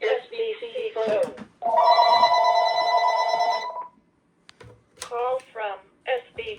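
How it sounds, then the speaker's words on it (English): A kitchen telephone bell rings in one sustained, loud burst lasting about two seconds, with a person talking just before and after. "Just a kitchen phone."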